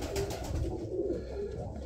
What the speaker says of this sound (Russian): буду кормить сейчас голубей.